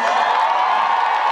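An outdoor crowd at an Independence Day folk concert in Minsk cheers and applauds, a dense, even roar of voices and clapping that holds steady and loud through the whole moment.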